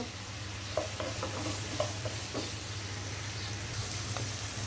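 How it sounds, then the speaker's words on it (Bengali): Onions frying in a pan for chicken curry, a soft steady sizzle and hiss with a few scattered stirring scrapes, close but fairly quiet, with no one speaking. "পেঁয়াজটা একটু ভাজা ভাজা করে নেব লাল লাল করে নেব"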